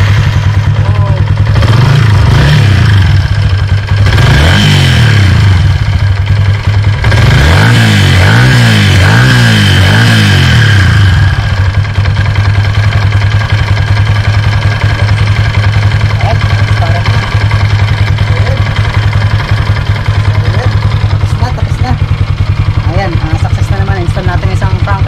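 A Yamaha Sniper 150 motorcycle engine, just fitted with a new crankcase, fires up with a few revving surges and then settles into a loud, steady idle, while people talk nearby.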